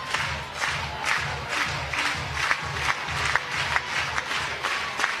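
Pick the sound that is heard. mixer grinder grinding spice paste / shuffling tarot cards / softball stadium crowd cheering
softball stadium crowd cheering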